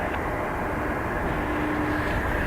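An airplane at Dublin Airport gives off a steady, loud broadband engine roar that holds evenly throughout, with no voices.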